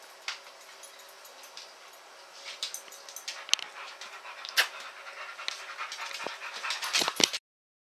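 A dog up for adoption pants rapidly and steadily up close, breaking into soft whimpers and whines that grow more frequent toward the end.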